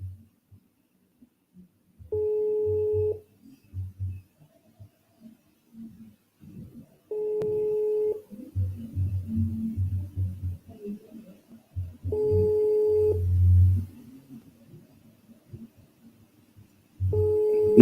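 A telephone ringing on an unanswered call, heard as four evenly spaced, steady electronic ring tones about five seconds apart, with faint murmuring and handling noise in the gaps between them.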